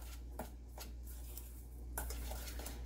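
Walnuts stirred in melted butter in a pan, giving a few light scraping and clinking strokes against the pan, close by and fairly faint, with a soft low hum beneath and no voices.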